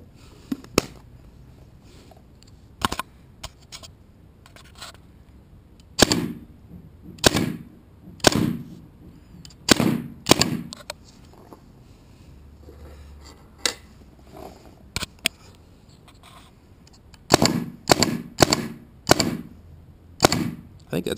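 A GOG Enemy paintball marker fires reusable reballs into a homemade catcher: sharp, close pops come singly and in quick clusters of two to four, separated by quiet pauses.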